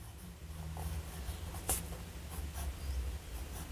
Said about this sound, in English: let's see how this pen writes